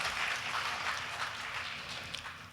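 Applause from a symposium audience, a broad, even wash of many hands clapping, fairly faint and distant, fading slightly near the end with no talk over it.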